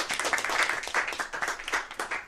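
A studio audience at a sports news quiz show claps in a brief, steady round of applause, many hands at once, moderately loud and close.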